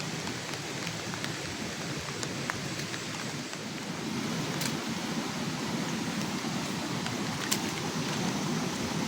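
Heavy storm rain pours down over rice fields in a steady, dense hiss that swells slightly partway through, with a few sharp drips or crackles standing out against the constant roar.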